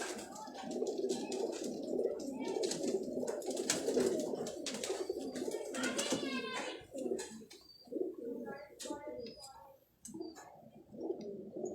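A flock of Ferozpuri pigeons kept in Karachi keeps up a dense, continuous low cooing, close and fairly loud, with a few clicks and brief higher calls mixed in before it thins out near the end.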